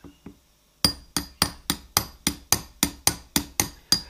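A casting pattern is tapped loose in a sand mould in a home foundry, part of a speedo drive casting for an Oakland car. Two faint taps come first, then a rapid, even run of about a dozen sharp, ringing metallic knocks close by.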